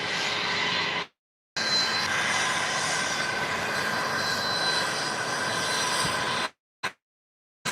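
A Southwest Boeing 737 Max 8 engine roars steadily in a broadband rush heard from a distance, broken by brief gaps of silence.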